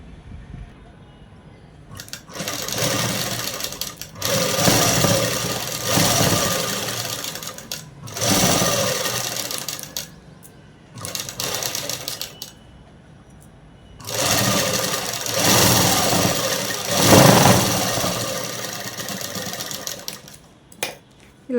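A sewing machine stitches cloth in several loud, continuous runs with short pauses between them, each run a steady dense mechanical whirr, heard alone with no talk.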